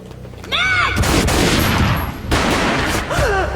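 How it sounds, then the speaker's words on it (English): Gunfire in the video game Max Payne: two loud, booming shots in close succession, each with a sharp broadband blast and a short tail, framed by brief tonal cries before and after. "A gunshot boomed and she fell down in slow motion."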